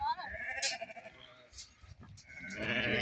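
Several lambs bleat in short, wavering calls close by, one after another with brief gaps, while a person speaks among them.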